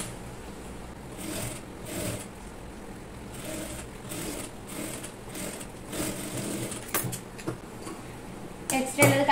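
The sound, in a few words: sewing machine stitching baby frock armhole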